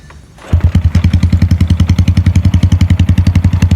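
A Honda Wave 110 motorcycle fitted with a 125 exhaust pipe starts and idles loudly up close, its single-cylinder exhaust pulsing in a fast, even thumping rhythm.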